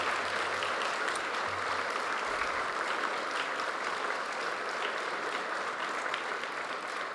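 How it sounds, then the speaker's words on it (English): A graduation ceremony audience applauds for mothers standing in the crowd, sustained, even clapping from many hands over several seconds at a steady moderate level, with no talk. "so we can give you a celebratory applause"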